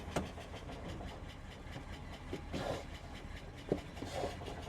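A 1971 Ford F350 crew cab truck, a barn find just brought back to life, runs with a rough, uneven engine drone close by, broken by a few sharp knocks and clunks.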